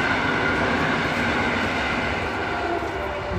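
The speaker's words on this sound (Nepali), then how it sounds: "ल पोल्यान्डको ट्रेन आयो" A train passing in Poland near Kutno, a steady, loud rumbling roar of rail cars rolling by close at hand, continuous throughout without a break.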